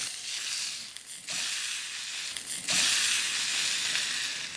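A thick cowboy steak sears on a hot grill, a loud steady sizzle that jumps louder in two steps as the meat is turned, with no talking.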